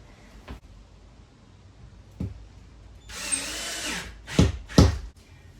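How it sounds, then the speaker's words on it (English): A power drill drives a screw during a vintage caravan restoration, giving a sustained whirring run followed by two short, loud bursts, with a few faint knocks before it; no one speaks. "let me screw that in"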